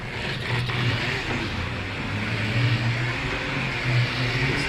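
An electric polisher running at low speed with a 3M polishing pad, a steady close motor drone with a low hum that rises and falls slightly, continuous and without speech.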